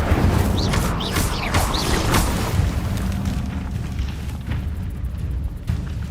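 Incendio fire spell cast in Hogwarts Legacy, a loud, dense whooshing burst of flame with a rumbling low boom that stays continuous for several seconds before thinning slightly, with a few sharp crackling pops near the start.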